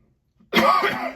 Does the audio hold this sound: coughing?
yes